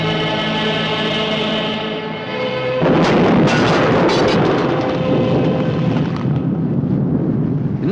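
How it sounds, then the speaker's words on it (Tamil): A loud, deep explosion booms out suddenly after a steady droning hum, its low rumble filling the scene and lingering for several seconds in a Tamil comedy movie scene. "நான் ஒண்ணும் பண்ணலையே, அதுவா வெடிச்சது"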